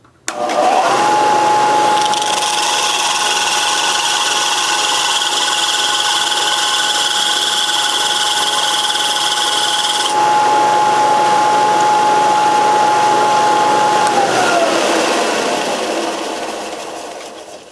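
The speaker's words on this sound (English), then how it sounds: "I got this drill going in reverse. And now let me turn the machine on here." A drill running in reverse for sharpening gives a continuous loud motorized whine with a grinding, rasping texture, running steadily for many seconds before winding down at the end.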